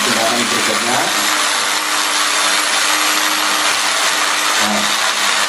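A blender runs steadily, mixing ingredients for homemade liquid organic fertilizer. Its loud, even motor whine holds through the whole stretch, with a brief dip in pitch near the start and again near the end.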